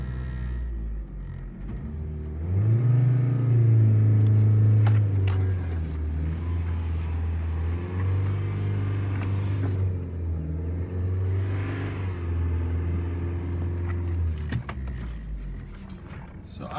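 An old car bought for ten dollars idles in gear, its engine a low, steady rumble close by that swells briefly early on and then holds an even, throbbing note.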